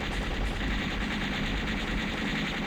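Rapid bullet fire streams steadily from a steampunk airship in the shoot-'em-up game Steel Empire, a dense, continuous rattle holding at even loudness throughout with no talk over it.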